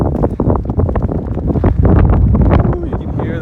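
Strong wind buffets the microphone near a misty summit of Wolverine Peak, a steady low roaring rumble with gusts throughout, loud and close.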